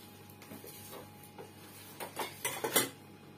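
Spoon clinking against a cooking pot while stirring biko: light metallic taps, sparse at first, then a quicker cluster of sharper, louder clinks near the end, close and alone.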